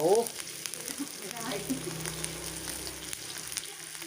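Curry paste stir-fries in a pan for a stir-fried clam dish, producing a continuous moderate sizzle with light scraping, and a short voice-like sound at the very start.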